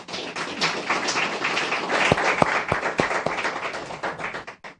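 Applause from a launch-event audience greeting the championship's title sponsor, a broad steady wash of clapping with a few sharper individual claps standing out near the end, fading out at the close.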